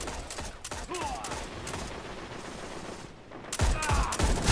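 Bursts of scout rifle fire ring out during a Destiny Iron Banner match, rapid cracks layered with game effects and chaotic action noise. A brief lull comes before a louder final flurry.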